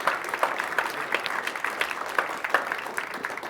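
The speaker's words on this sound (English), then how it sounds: "Let's have another round of applause for Hanif Joshaghani." A room full of people at a startup accelerator demo day claps in sustained applause, dense and steady throughout with scattered sharper claps standing out.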